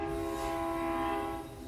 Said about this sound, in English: there's a train horn going on behind me